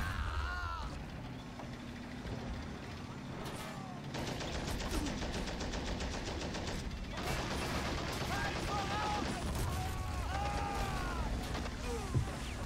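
A squad's gunfire erupts in the war strategy game Men of War: Assault Squad 2, with sustained overlapping rifle and machine-gun volleys, rattling mechanisms and distant booms, fairly dense and moderately loud throughout.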